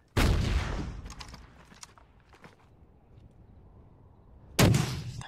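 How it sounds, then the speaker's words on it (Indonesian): Two sharp, loud blasts of gunfire, one at the start and one near the end, with quieter rustling and scattered thuds between them. "Tanpa basa-basi, mereka langsung menghujaninya dengan tembakan."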